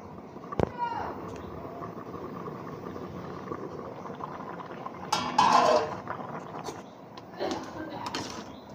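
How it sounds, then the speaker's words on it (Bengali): A metal lid lands with a clink on a pot of mung dal cooking with snake gourd, one sharp clatter followed by scraping and softer pot-handling sounds, with a voice talking over it. "এবার ঢাকা দিয়ে রাখবো কিছুক্ষণের জন্য"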